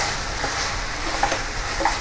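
Steady sizzling of mutton frying in a pan, a continuous crackle with occasional soft stirring scrapes, close and moderately loud.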